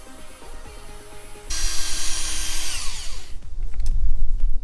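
A cordless power drill sanding a car headlight whines at high speed nearby, then winds down as its battery dies and it slows and stops.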